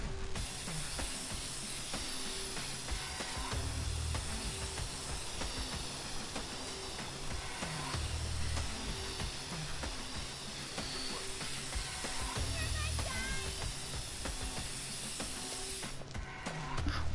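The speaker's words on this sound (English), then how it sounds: "Yeah, you have to do this with spray paint." Aerosol spray paint hisses steadily in the Infamous video game, a continuous airy spray layered over a busy game soundscape of mechanical rumbles, persisting throughout at a low level.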